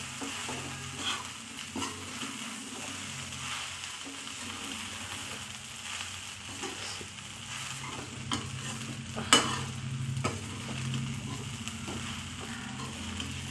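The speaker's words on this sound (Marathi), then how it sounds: "शाबू आपला हा भाजत आलेला आहे।" Sabudana khichdi roasting in a pan is stirred continuously, giving a soft, steady sizzle broken by scraping strokes and occasional clinks of the spoon.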